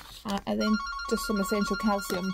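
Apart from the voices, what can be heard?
telephone ringing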